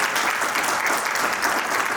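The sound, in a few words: audience applause welcoming a guest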